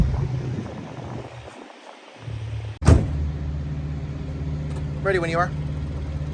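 A 1985 Chevrolet Monte Carlo SS engine fires up with a sharp cranking catch and settles into a steady, low rumbling idle, with a person briefly speaking over it near the start.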